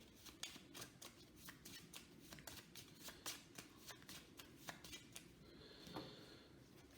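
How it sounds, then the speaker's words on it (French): A deck of game cards is riffled and shuffled by hand, a steady run of quick papery flicks and snaps, faint and close with no other sound around it. "On remélange."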